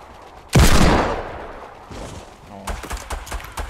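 Pistol gunfire in the Fortnite video game, a sudden loud burst that decays over about a second, followed by a quieter rapid string of shots and impacts near the end.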